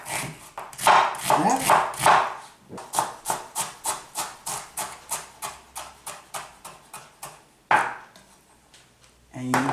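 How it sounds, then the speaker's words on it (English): A knife chops onion on a board for avocado bruschetta, a fast run of crisp strikes first, then a steady rhythm of evenly spaced chops with one louder knock, close and clear, with a brief spoken word near the start. "And you cut them chop them."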